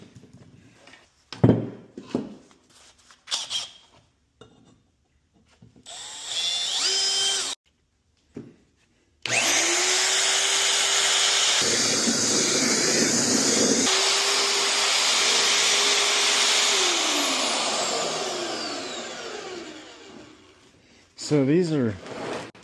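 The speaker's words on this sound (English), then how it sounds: "Drill these and get them drilled out with my magnetic drill press" A magnetic drill press bores through steel for a Panhard bar repair on an OBS Chevy truck, a loud steady motor whine with grinding cutting noise lasting about ten seconds, preceded by clanks, brief motor bursts and talking.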